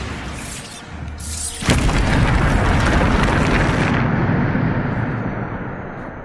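A Bombarda blasting spell in Hogwarts Legacy goes off as a loud, deep boom that swells into a long rumbling roar lasting several seconds before cutting off abruptly.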